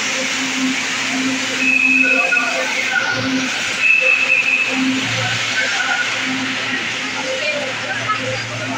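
Interior of an LRT light rail train riding from Santa Lucia to Recto, with a steady low rumble and hum, a few brief high squeals, and people talking over the ride noise throughout.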